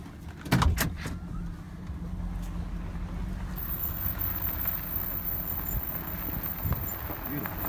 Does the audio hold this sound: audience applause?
no